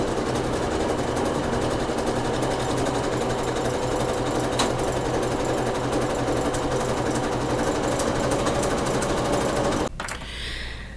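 A sewing machine runs continuously on a small stitch, stitching mesh on a beach bag, its fast, even mechanical whirr loud and close for about ten seconds before stopping abruptly near the end.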